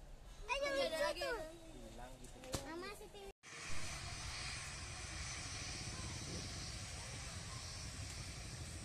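Loud, steady jet engine roar of a plane taking off at Halim Perdanakusuma airport in Jakarta, heard up close and continuous after a sudden cut, with people talking over wind noise beforehand.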